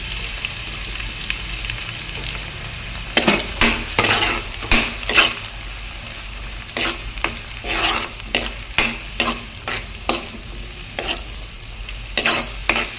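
Thinly sliced onions and green chillies fry in a pan under a constant low sizzle, with bursts of loud metal spatula scrapes against the pan. The scraping comes in quick rhythmic strokes, close up, with no speech.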